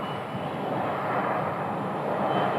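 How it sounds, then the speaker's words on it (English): An Embraer 135 airplane departs Phoenix Sky Harbor with a loud, steady engine roar that swells slightly and holds close and continuous, with no talking. "It's an Embraer 135."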